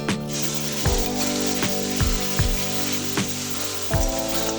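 Ground spice paste spits and sizzles in hot oil in a vegetarian young jackfruit curry, a loud steady frying hiss broken by a regular series of sharp pops and spoon knocks.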